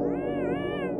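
A cat meows from the cat effect in the Yume Nikki video game, one drawn-out, wavering meow that fills the whole second, close and clear with no talk.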